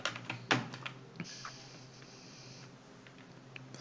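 Computer keyboard typing while writing JavaScript code, a burst of brisk close key clicks at the start followed by quieter, sparser taps, with no talking.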